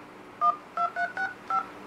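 Keypad tones from a TCL Idol X+ phone dialer, four short electronic beeps in a quick uneven run, clear and close over a quiet background.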